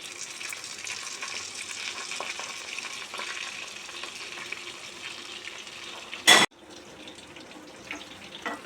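Chicken lollipops fry in hot oil with a continuous close crackling sizzle, broken once by a sudden loud clatter partway through before the frying hiss resumes.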